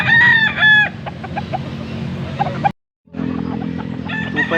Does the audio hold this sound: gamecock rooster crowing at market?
yes